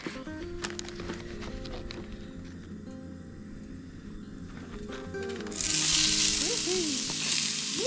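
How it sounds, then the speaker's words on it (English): Onion sautés in a hot pan over a camp stove at a dispersed forest campsite, a close sizzle that swells into a loud, bright hiss partway through, with faint scraping and a brief squeak near the end. "we are going to saute the onion"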